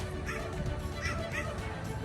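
A dog barks a few times at a distance near swans in winter, the yaps mixed into a steady outdoor background with faint voices.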